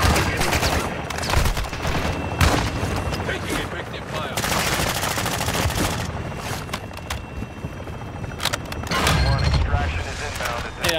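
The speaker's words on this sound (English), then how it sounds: "Taking effective fire." Video game gunfire: sustained bursts of automatic weapons fire with sharp individual shots, loud and close, continuing over most of the stretch while players talk over the radio.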